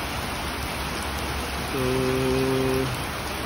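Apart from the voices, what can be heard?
heavy rain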